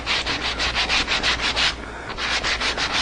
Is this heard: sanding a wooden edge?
yes